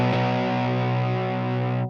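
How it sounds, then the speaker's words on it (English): A distorted electric guitar note runs through a Line 6 Helix with a delay effect, sustaining loudly and steadily before the delay is switched off and the sound cuts out abruptly near the end. "You'll hear it abruptly cut off."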